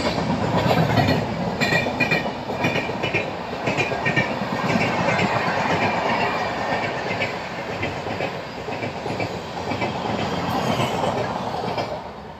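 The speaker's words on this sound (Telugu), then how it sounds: "పక్కన వెళ్తుంది కదండి ట్రైన్." The 13351 Dhanbad Bokaro Express rolls past alongside the listener's own passenger train, a loud, continuous rumble and clickety-clack of wheels on rails with faint squeals, steady throughout without a voice.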